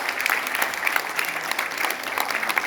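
Dense audience applause fills a hall at a hospitality industry function, steady and continuous with crisp individual claps, heard alone without talk.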